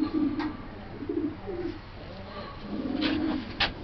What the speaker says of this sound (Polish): Tutaj mamy następnego gołębia.